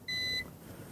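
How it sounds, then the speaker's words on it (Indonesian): An FSP iFP series UPS running on battery power gives a single sharp electronic beep, clear and close, then falls away to faint background hum. "ini bip terus menerus karena dia sekarang menandakan dia sedang berjalan dalam modus baterai"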